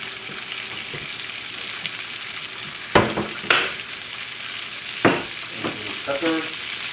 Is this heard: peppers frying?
yes